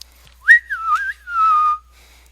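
A casual whistled tune, a few gliding notes in a rising and falling phrase, close and clear against near silence.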